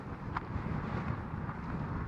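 Steady wind buffeting the microphone, a low rumbling roar that holds constant throughout with no voices.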